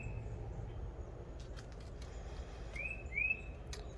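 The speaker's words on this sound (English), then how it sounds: "Birds chirping." Birds chirp outdoors in a residential neighbourhood, a few short bright calls rising above steady low background hum and traffic, with a clearer pair of chirps near the end.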